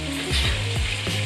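Chicken pieces fry loudly in a pan for a creamy parmesan mushroom chicken dish, a dense close sizzle with a few quick swishes and scrapes as pieces are turned.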